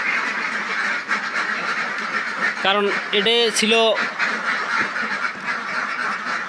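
Five-month-old laying ducks quack in a short burst of several calls over steady background noise, with a voice speaking briefly nearby.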